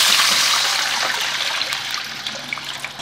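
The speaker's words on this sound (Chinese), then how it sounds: "加水。" Water pours into a hot wok holding oil, scallion, ginger, spices and rock sugar, giving a steady, close hissing, trickling rush that slowly fades over a few seconds.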